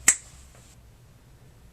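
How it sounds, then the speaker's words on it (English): A single crisp finger snap, close and loud, with a short bright decay into quiet; no talking. "now when I snap my fingers, you'll see the notes appear that we need for a 4 chord"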